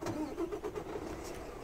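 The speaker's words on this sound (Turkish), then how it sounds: "Şöyle bir açalım kontağımızı, bir çalıştıralım aracımızı da." Diesel engine of a 2021 Mercedes Travego coach cranking and catching, a close, steady mid-pitched rumble with slight fluctuations as it starts, no talking.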